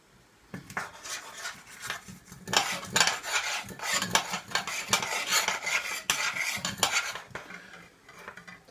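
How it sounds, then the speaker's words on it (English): Onions and cabbage being tipped into a pan for a home-style chicken curry and stirred, with repeated scraping, clinking and rubbing against the pan and a faint sizzle, no voices. "to that we'll add first of all the onions and the cabbage"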